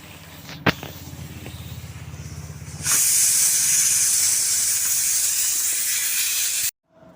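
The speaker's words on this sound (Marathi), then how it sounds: "तर अशा प्रकारे मी सगळ्या पुऱ्या तळून घेते." Methi puris frying in hot oil, a low bubbling hiss that swells abruptly into a loud, steady sizzle as more dough hits the oil, then cuts off; a sharp knock sounds near the start.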